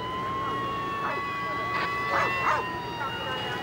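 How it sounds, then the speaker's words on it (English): A police dog working a nighttime search for a suspect, heard as several sharp barks and yips over a constant electronic whine and background hiss, the barks clustered near the end and moderately close. "A Prince George's County officer arrived with a police dog and started to hunt for McLean in the dark"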